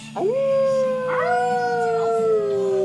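A person imitates a wolf, letting out a sustained rising howl and then a second long, steady howl close up, loud and alone with no speech over it.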